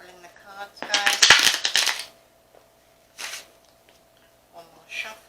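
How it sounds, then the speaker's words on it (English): Tarot cards being shuffled by hand, heard as a loud, rapid papery riffle lasting about a second, followed by two shorter, softer flurries of card handling. "Just shuffling the cards"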